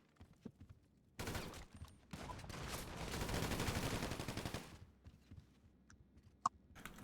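Heavy rapid gunfire from shooting people in GTA V, a loud continuous burst lasting several seconds after a quiet start, then fading to sparse faint clicks and one sharp pop.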